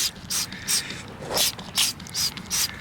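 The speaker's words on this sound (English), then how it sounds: "let's wash this off with a little spray bottle here" A handheld spray bottle squirts water to rinse mud off a freshly dug silver coin outdoors. About seven close, sharp hissing bursts come in an uneven rhythm over a low background rumble, with no talk.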